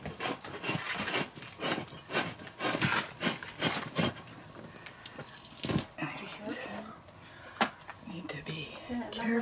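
Stretched moose rawhide is scraped in repeated close, rasping strokes at an uneven rhythm, with a voice speaking quietly between them.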